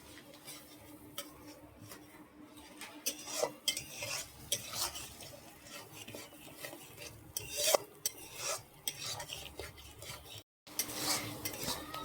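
Ground spices (turmeric, cumin, coriander and chilli powder) being sautéed and stirred in a pan: a steady quiet sizzle with repeated scraping and clinking from a spoon against metal, no talking.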